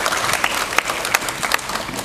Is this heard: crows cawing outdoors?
no